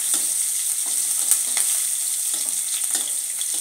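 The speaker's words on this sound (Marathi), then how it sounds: "छान लसूण भाजलाय" Garlic fries in a pan with hing and chili for math bhaji, giving a steady, close sizzle that crackles all through, with faint stirring scrapes over it.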